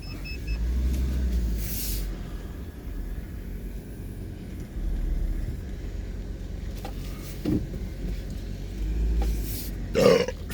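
A couple of short burps after drinking Red Bull Pink Edition, one midway and a louder one near the end, set against a steady car engine rumble.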